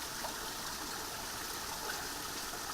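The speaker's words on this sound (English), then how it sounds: "the spring water comes deep within the granite from this trumpet-shaped hole in the rock" Spring water flows from a trumpet-shaped hole in granite rock, making a steady, even rushing and trickling wash that stays constant throughout, with no voices.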